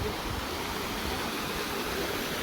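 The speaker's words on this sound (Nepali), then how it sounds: "छलछली पानी" Steady rushing and splashing of a stream or small waterfall near trout farm ponds at an eco village in Pokhara, Nepal, forming a constant broadband wash with no pauses and no voices.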